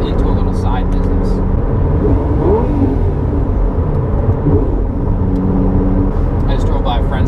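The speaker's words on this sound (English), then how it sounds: "I just drove by a friend's house, so I had to rev it up." A Lamborghini Gallardo drives past a house with a loud, close engine roar and revving surge under the road rumble, the tone rising and falling, with brief talking at the edges.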